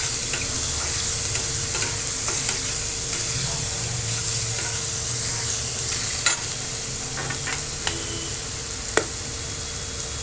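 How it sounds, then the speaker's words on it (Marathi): Raw mushrooms sautéing in butter for a chapati wrap, a steady, loud sizzle up close with faint stirring scrapes and a few sharp clicks of a utensil against the pan. "मशरूम कच्चे असतात म्हणून हे आपल्याला फ्राय करून घ्यायचं आहे थोडंसं तेलावर"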